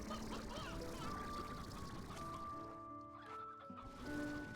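Clucking chickens fill a Slime Rancher 2 game scene, a dense, continuous chorus of fowl calls layered over steady background sound.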